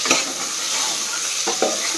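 Onions and radish sizzle steadily in hot oil while a spoon stirs the pan, the loud frying hiss constant throughout, with a couple of scraping stirs near the end.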